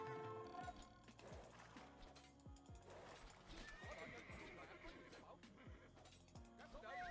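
Horses in a strategy video game clip-clop steadily in rhythmic hoofbeats over busy battle ambience, with neighs and whinnies rising through it.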